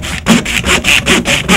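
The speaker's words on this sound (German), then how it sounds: "säge ich das jetzt ab" A handsaw cuts through a pork loin and belly in about seven quick, even back-and-forth rasping strokes, loud and close, with no talking.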